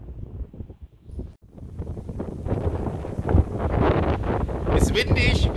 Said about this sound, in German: Ist windig.